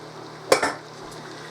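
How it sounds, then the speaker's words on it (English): Potato soup ingredients being stirred and sautéed in a pot, a couple of quick scraping clatters of utensil against metal over a faint steady sizzle, with a small clink at the end. "we're going to saute these all up. Get everything mixed around"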